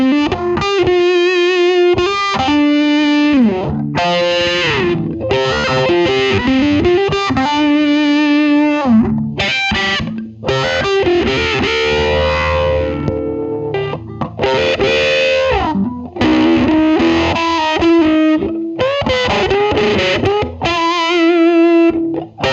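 A distorted electric guitar built from a $35 DIY kit plays a lead line with sustained, bending notes and fast runs, loud and saturated throughout with no talking.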